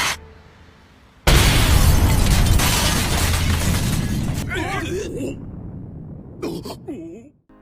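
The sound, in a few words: explosion shattering glass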